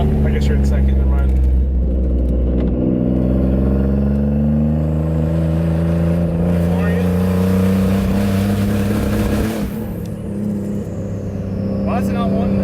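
Nissan 350Z with a Greddy twin turbo kit, engine note rising steadily in pitch as it revs under load from inside the car, with a brief dip near the end and a voice talking over it.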